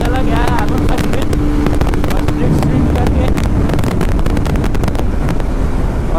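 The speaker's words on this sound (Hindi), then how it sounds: "अभी स्पीड अच्छा खासा पकड़ लिया है बाइक ने, 140 मैंने इसको अचीव करवा लिया है।" A Yamaha R15 V3 motorcycle rides at high speed, heard as a constant roar of wind buffeting the microphone with engine noise beneath it and a rider's voice talking over it.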